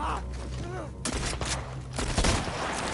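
Gunfire in The Last of Us Part 1 video game: a burst of sharp shots at close range, several loud reports in quick succession with a low rumble underneath, with a voice briefly audible in the background.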